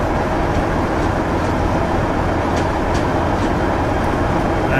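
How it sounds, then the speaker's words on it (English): A Virgin Class 47 diesel locomotive pulling a light five-car train in Train Simulator 2018 gives a steady, loud broadband rumble with a faint higher whine, holding constant throughout with no talking. "a train this light would accelerate kind of rapidly for a locomotive like this"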